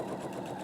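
A sewing machine chain-piecing two fabric pieces hums in a steady, fast, even whir, close and fairly soft, in one short continuous burst with no talk.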